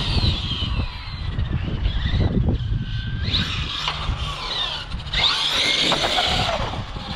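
An RC monster truck runs on a Futaba 7PX radio, its motor whining loud and near in rising and falling surges with gritty rumble underneath.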